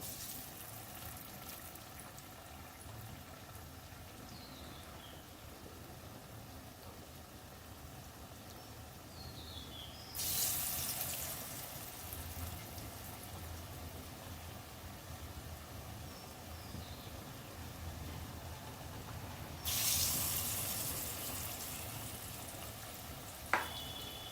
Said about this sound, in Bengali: দেখো আমি কয়েকটা বানিয়ে ছেড়ে দিয়েছি। এটা লাল লাল করে ভেজে ওঠাবো, ততক্ষণ ভাজতে থাক।